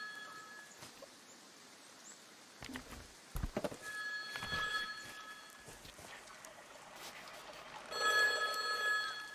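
A telephone rings in the video game The Wild at Heart, a bright repeating electronic bell that comes in short bursts and grows louder near the end, over soft outdoor ambience with scattered footsteps and clatter.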